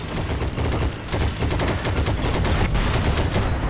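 Dense, nonstop gunfire in the video game Heroes & Generals, with overlapping rapid bursts, machine-gun rattle and heavy shots blending into a loud, sustained battlefield roar.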